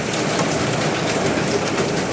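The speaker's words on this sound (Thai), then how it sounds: "ที่ได้ยินเป็นเสียงฝนนะครับ" Steady rain pours down in a dense, continuous hiss of drops hitting surfaces outdoors during cooking, with no voices.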